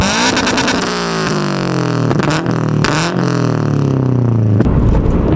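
Car engine revved hard several times in loud bursts, with sharp exhaust pops and crackles as it shoots flames, the pitch swooping down between revs.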